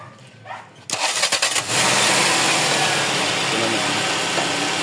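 A Toyota Corona 3S engine cranks in short bursts and catches, then settles into a loud, steady run close by, with brief talk near the start.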